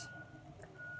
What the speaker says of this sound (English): I'm by my window, so it's a bus in the background.